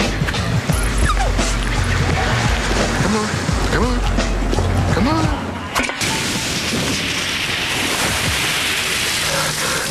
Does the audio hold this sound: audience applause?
no